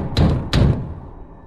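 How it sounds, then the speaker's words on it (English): Two heavy bangs on a door, close and loud, about half a second apart, then quiet. "until I heard a bang on the door"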